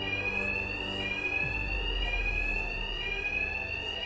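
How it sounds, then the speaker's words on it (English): A loud, unbroken alarm rings in the Arkham Knight video game, a piercing steady tone with a deep rumble underneath, and no speech. "My attacks will be covered by the noise of the alarm."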